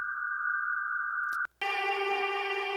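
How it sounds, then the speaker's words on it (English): A processed vocal-type sound in an experimental electronic music production session gives a steady tone, a brief dropout, then a dense, moody echoing wash, soft and unaccompanied. "Oh, I love this sound. I use this a lot too. It's a really moody echo."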